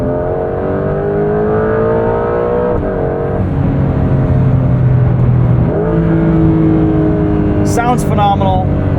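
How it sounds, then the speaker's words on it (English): A 2025 Porsche 911 GTS (992.2) engine revs hard under acceleration, its tone climbing through the gears with brief dips at each shift. It sounds loud and close from the cabin, sustained throughout. "A lot of that is probably piped in engine noise"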